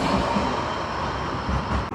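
Blackpool tram 003 passes along Burlington Road West toward Stargate, a loud, continuous rolling rumble of wheels on rail with no voices.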